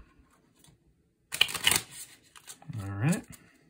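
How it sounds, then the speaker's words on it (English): A deck of cards for the 1000 Blades board game gets a quick riffle shuffle, a short papery burst after a silent pause, followed by someone speaking. "Going to give it a shuffle"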